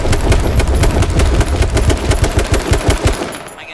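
Rapid, sustained automatic gunfire from H1Z1, a battle royale video game, as dense bursts of close shots rattle for several seconds before trailing off at the end.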